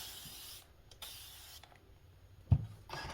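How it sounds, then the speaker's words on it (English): A few short hissing spritzes from a spray bottle wetting a fabric strip on an ironing board, separated by brief pauses, with a soft thump near the end. "the first thing I'm going to do is just spray this strip down"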